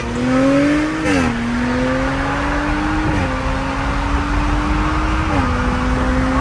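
A supercharged Audi S4 with performance mods pulls hard in a 40 mph roll race, its engine droning loud and steady with a rising pitch and clear dips at each gear shift, no talk.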